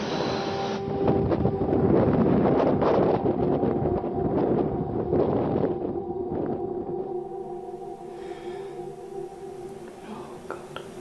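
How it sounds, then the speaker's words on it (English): Wind blowing outdoors at night on a haunted-site investigation near the Avebury Stones, a loud continuous rushing roar with gusty swells for most of the span, dying down to a faint hollow hiss near the end. "the wind outside is blowing and it's casting shadows everywhere"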